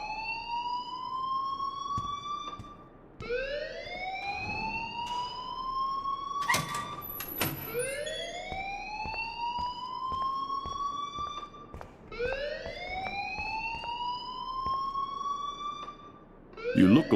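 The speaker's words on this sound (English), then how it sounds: "please turn off that alarm since that's your job" A loud electronic alarm blares in the Life Is Strange video game, repeating rising wails about every three seconds. The alarm continues steadily, with a brief clatter near the end.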